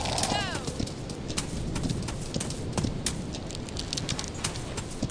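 Horse hooves clip-clopping in the audio game A Blind Legend, a steady run of hoof strikes over ambient rain-like noise, with voices speaking intermittently.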